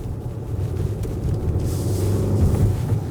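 A 2025 KGM Actyon's engine gives a steady low rumble that swells slightly as the throttle is blipped. It sounds muffled and continuous, with no voices.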